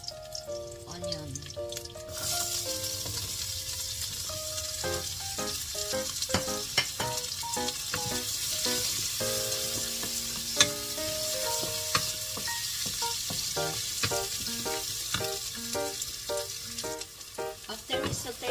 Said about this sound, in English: After we saute the onion and the ginger